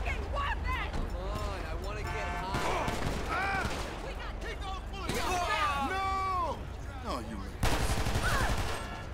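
Gunfire in Grand Theft Auto V during a highway patrol scene in Blaine County: scattered sharp shots and short bursts at moderate distance, mixed with game voices and effects.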